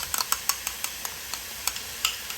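Sauce is stirred into beef and spicy Korean rice cakes in a hot pan, with a steady sizzle under irregular light scraping clicks of the utensil against the pan, close and without talk.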